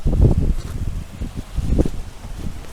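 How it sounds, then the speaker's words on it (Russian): Outdoor wind buffets the microphone in cold weather, loud low rumbling gusts rising and falling unevenly with a faint rustle above them. "Ветер."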